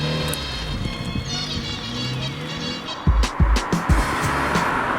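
A Honda Jazz mini MPV driving on the road, heard from the cabin as a steady engine and road hum with some thumps from the surface, fairly close.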